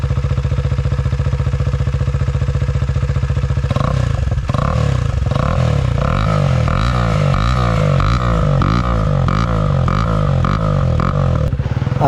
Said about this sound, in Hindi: अभी हम आते हैं अपनी बाइक पे ड्यूक 250 पे एंड इसका आवाज़ सुनाते हैं आप लोग को।